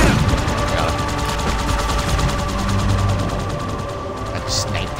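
Rifle fire crackles continuously through a Halo 2 firefight on the Outskirts level, with shots, explosions and vehicle noise layered into a dense, loud battle din while players talk over it.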